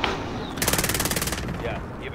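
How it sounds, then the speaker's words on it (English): Rapid automatic gunfire in a squad battle royale video game, a loud burst of evenly spaced shots lasting under a second, then sparser distant reports under game ambience. "Oh, I'm being shot at still?"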